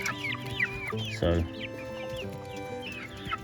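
Hens cluck repeatedly in a breeding pen, short, close, rhythmic clucks and chatter from several birds, with a brief word of speech partway through.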